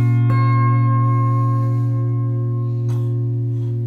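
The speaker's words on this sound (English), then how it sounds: "Wow, you can get a lot of different tones out of this guitar." A KVG guitar being played, with one strong chord ringing out loud and sustained, rich in low tones, and a second softer strum near the end while the sound slowly decays.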